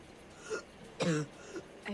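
A character coughing in the Assassin's Creed Liberation video game, a few short rough coughs in close succession, isolated against a quiet game background.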